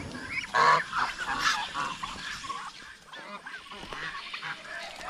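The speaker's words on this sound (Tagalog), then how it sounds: "Yung mga pato natin, marami na naman." A large flock of farm ducks gives off repeated honking, quacking calls at moderate volume, overlapping in irregular bursts with some background noise.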